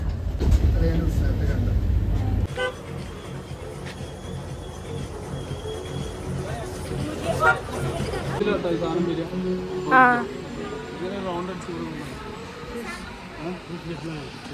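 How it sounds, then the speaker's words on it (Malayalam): Rumbling rattle of a mini train on its track at Green Mubazzarah, Jebel Hafeet, Al Ain, with people chatting and laughing over the steady clatter throughout. "മിനി ട്രെയിനിൽ പോവാണ്"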